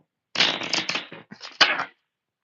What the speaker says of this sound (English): Didn't pick enough cards to do the shuffle.